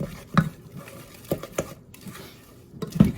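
Meatball mixture with chopped basil is stirred by hand in a bowl, making soft, sparse squelches and a few louder knocks against the bowl, quiet and close.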